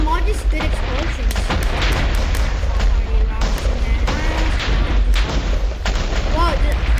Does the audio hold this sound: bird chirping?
no